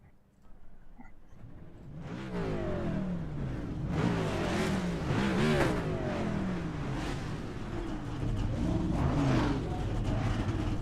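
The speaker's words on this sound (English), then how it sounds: "The engines have been fired up." Race car engines rumble to life at the start of a NASCAR GTR race at Daytona International Speedway, a dense, steady roar building after a quiet opening and holding loud for the rest of the stretch, with revving swells layered in.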